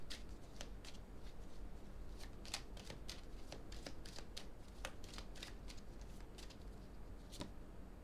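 Playing cards being gathered up on a table, soft scattered flicks and slides repeating irregularly, quiet and close against a faint background hiss.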